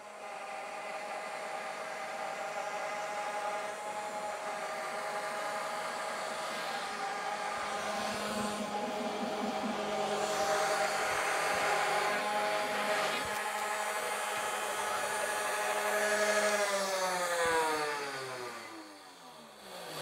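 A CNC router machining the second section of a part longer than its table, the cutter whining steadily with shifting tones and a sweeping pitch drop near the end as the spindle winds down.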